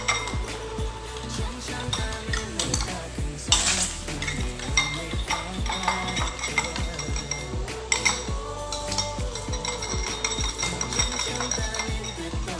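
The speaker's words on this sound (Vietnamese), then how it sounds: "Sau khi đập trứng xong, Hoàng Sơn quấy đều và lấy dầu" Eggs being whisked in a bowl with a utensil, a steady run of rhythmic clinks and scrapes against the bowl, close and continuous with no talk.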